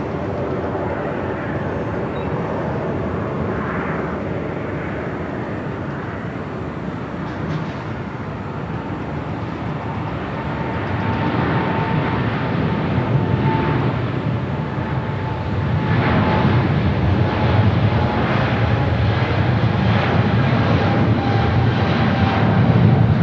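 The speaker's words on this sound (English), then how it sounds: "The 777 now rolling down to 5 right." A Boeing 777 rolls down the runway at Los Angeles International Airport, its engines a loud, steady roar that swells gradually over the whole stretch without any voices.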